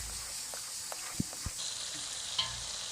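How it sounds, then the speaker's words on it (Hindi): Masala frying and being stirred in oil for Pindi-style farai channa, a quiet steady sizzle broken by a few soft stirring knocks and scrapes. "अब इसे हम थोड़ा सा भून लेंगे ताकि मसालों का कच्चापन दूर हो जाए और ऑयल बाहर आ जाए।"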